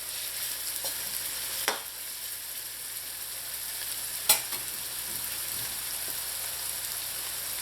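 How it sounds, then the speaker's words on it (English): Onion and garlic sauté quietly in a pan for Trinidad-style fried potatoes, a soft, even sizzle throughout with two brief sharp taps of a utensil. "Let this just saute a little until the onion starts to turn like light brown in color."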